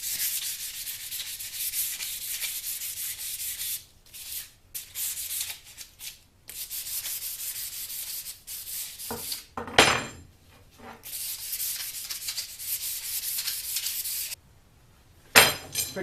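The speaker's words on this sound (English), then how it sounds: "That's just some old sanding discs." Old sanding discs grind across metal in a bright, harsh rasp that runs in long close passes broken by short pauses, with a few louder scraping bursts near the end.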